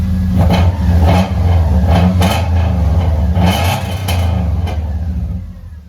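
A damaged Subaru car engine revs up several times in bursts, loud and close, with clattering mechanical noise between the throttle blips.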